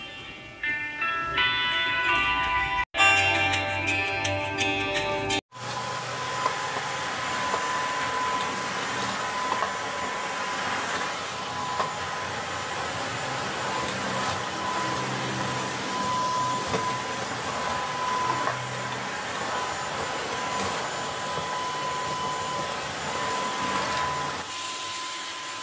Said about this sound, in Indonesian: Dan lebih gampang lagi kalau kita ngebersihinnya pakai vacuum cleaner seperti ini ya teman-teman, supaya debunya itu gak berterbangan kemana-mana.